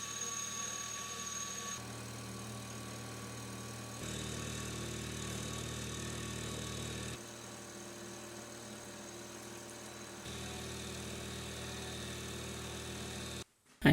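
A machine mills a female dovetail slot into a metal slide, carving out the center of the piece. It makes a steady mechanical whine and hum that shifts in tone between passes and ends with an abrupt stop.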